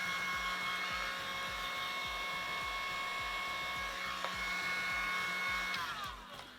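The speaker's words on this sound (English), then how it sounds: "so I'm just gonna grab my heat gun" A heat gun blows hot air across the top and sides of a homemade silicone mold, the same gun used for candle making. A steady, close whirring blast with a pulsing low hum runs continuously, easing off at the very end.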